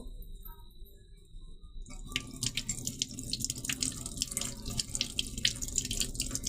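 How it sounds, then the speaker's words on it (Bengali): Tap water runs over two eggplants being washed in a kitchen sink. After a quiet opening, steady splashing and dripping start about two seconds in and continue close by to the end. "তো প্রথমে আমরা বেগুন দুটিকে ধুয়ে নেব।"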